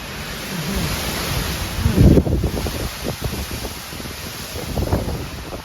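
Strong wind and heavy rain pound a house set in a garden as the trees bend. A loud, steady roar of rain is broken by gusty buffeting, with a heavier surge near the two-second mark.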